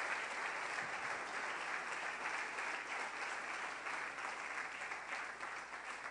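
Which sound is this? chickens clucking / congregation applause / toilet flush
congregation applause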